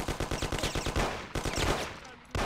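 Rapid gunfire in the video game Mafia 1 comes as a fast, evenly spaced burst of about a dozen loud shots. A short gap and a sharp final report follow, with a voice briefly heard.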